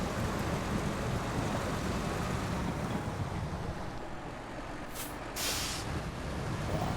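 A truck's air brake in the SnowRunner game, driving over rocks in the Yukon, gives two sharp high hissing bursts late on over a steady, loud, rumbling engine and rolling drone.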